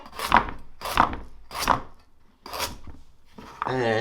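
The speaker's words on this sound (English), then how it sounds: "So just a few things I need to cut up, and that's the carrot." A knife chops a carrot into chunks on a board: four distinct, evenly spaced cuts, close and clear in a quiet kitchen, followed by a brief rustling scrape.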